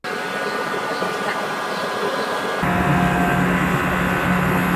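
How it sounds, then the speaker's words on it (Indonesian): A continuous whooshing hum of an AION electric car's air conditioning fills the cabin, shifting partway through to a louder, deeper drone with a low tonal buzz. "suara AC kayak gini dianggap normal loh"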